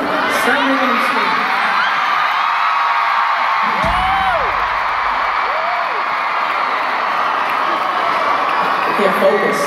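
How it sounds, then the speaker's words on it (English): The crowd at a concert in an arena screams and cheers in a constant distant roar, while people nearby talk over it. "Stop making them scream."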